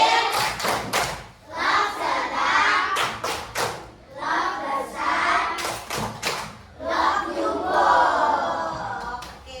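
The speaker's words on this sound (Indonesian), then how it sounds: "kita tepuk klop" A primary classroom in Indonesia does a rhythmic group clapping routine: short bursts of sharp, synchronized claps alternate with children chanting together, repeating in a patterned call-and-clap rhythm near the listener.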